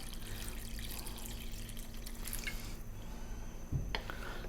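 Stock or water poured into a pot of chunky chopped potatoes for a lamb bone broth soup, a close, steady splashing trickle ending with a brief clunk of the pot.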